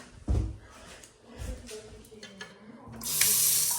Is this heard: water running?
yes